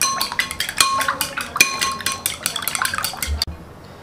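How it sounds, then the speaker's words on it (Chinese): Seasoned eggs being stirred clockwise in a bowl, a utensil clinking quickly and rhythmically against the bowl for several seconds before stopping abruptly. "你给它顺时针搅拌。"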